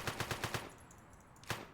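A rapid burst of about five gunshots rings out in a video game, followed by a short pause and one more shot. The fire is loud and close, with no talk over it.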